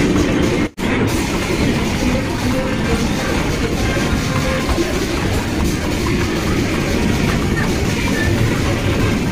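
A kids' toy train ride in a mall game zone runs with a continuous rattling, rumbling clatter, steady and fairly loud throughout, with a brief dropout near the start.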